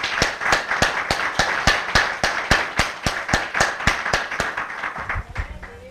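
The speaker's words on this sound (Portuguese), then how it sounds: "Vamos dar uma salva de palmas bem bonita para ele." A church congregation claps in unison, a steady rhythmic beat of sharp, evenly spaced claps that carries on loudly for several seconds before tapering off, with faint voices underneath.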